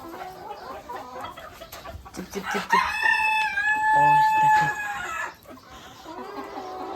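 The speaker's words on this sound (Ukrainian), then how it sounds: "Курочки і півники." A rooster crows loudly over a flock of clucking Chinese silkie chickens nearby, with a person calling to the birds and talking briefly before and after.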